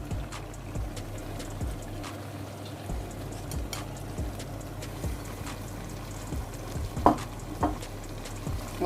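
Cauliflower pieces tossed into a hot pan of sautéed masala for aloo gobi, frying steadily with scattered scraping stirs and clinks of a spoon against the pan, no voices.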